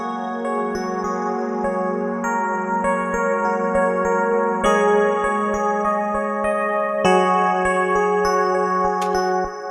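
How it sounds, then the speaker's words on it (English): An 80s-style FM electric piano patch from Logic plays broken chords with humanized, uneven note velocities, bright bell-like tones ringing over steady repeated pulses, alone and clear throughout. "I had this little like 80s FM piano here from Logic."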